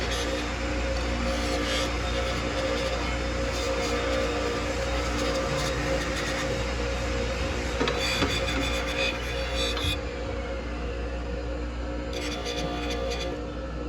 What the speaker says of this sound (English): Now we'll take them over and we'll deburr them on the Scotch and done.